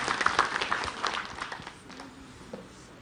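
An audience at an Islamic religious talk gives a short burst of applause, loudest at first and then fading away over a few seconds.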